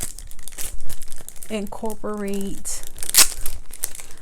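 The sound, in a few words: handling a pack of gnome stickers from Dollar Tree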